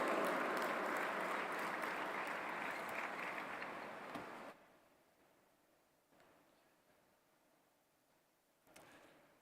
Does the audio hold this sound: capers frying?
no